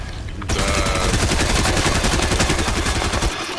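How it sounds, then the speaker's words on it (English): Rapid burst of automatic gunfire in the video game Fortnite, loud and close, a dense rattle of shots running steadily for about three seconds after a brief quiet start. "She about to shoot that damn gun"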